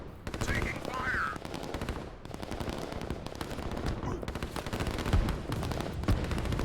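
Gunfire from the real-time strategy game Line Wars: a steady rattle of rapid automatic shots and distant blasts going on throughout at moderate level, with no speech over it.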